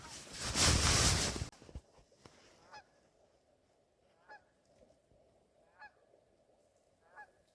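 Geese honk in short, separate calls spaced a couple of seconds apart, fairly distant, after a loud burst of noise at the start, heard early morning at a campsite near Wells, Nevada.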